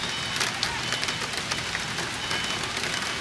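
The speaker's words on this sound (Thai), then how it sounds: "ฝนตกหนักมากเอาไง" Heavy rain pours down at a zoo in Chonburi, Thailand, with a dense, steady roar of drops hammering nearby surfaces, loud and continuous throughout.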